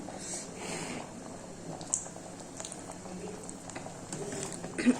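A pot of village-style Karnataka sambar bubbles at a soft, faint boil, with gentle irregular blips and pops heard up close and nothing else.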